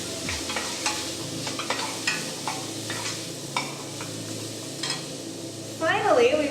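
Spices including cayenne are stirred into a sizzling pot of kitcheri, a steady loud sizzle with regular spoon scrapes roughly every second, and a voice comes in near the end.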